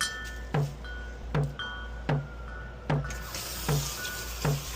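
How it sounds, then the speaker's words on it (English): Water runs steadily from a kitchen tap while hands are rinsed, a continuous close hiss broken by regular soft knocks and clatters roughly every 0.8 seconds. "Rinse my hands."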